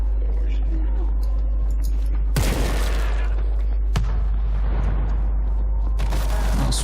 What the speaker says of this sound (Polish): słyszałem wybuch miny